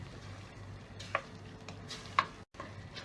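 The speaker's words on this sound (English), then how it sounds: "Fry this for about a minute." Turmeric and red chili powder frying in a pan for beef pepper masala: a low, steady sizzle with occasional stirring clinks, fairly faint and close, with a brief cut to silence near the end.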